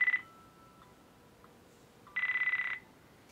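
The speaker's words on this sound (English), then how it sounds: "Here you can see I have a call coming in on my Android phone" Incoming phone call on an Android phone ringing through a Pioneer DEH-X4700BT car stereo over Bluetooth: short electronic ring bursts with a long pause between them, clear and close with no talk.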